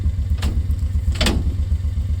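A utility mule vehicle, hitched to tow a 1951 Ford F100, runs with a steady low engine drone and two brief clattering bursts, no voices.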